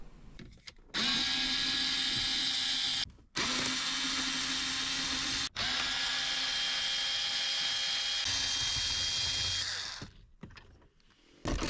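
A power drill or driver whirs loudly in bursts, removing the four screws from the radio and AC brace in a BMW 325i E46 dashboard during a stereo upgrade; sustained runs broken by short pauses, close up, with no talk.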